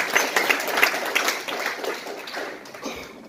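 A church congregation applauding during a sermon, a loose, moderate clapping that thins and fades over a few seconds, with a few sharper claps standing out.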